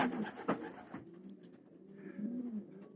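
Racing pigeons cooing at close range in a loft, several soft rolling coos in a row with a few faint clicks and rustles, no voices.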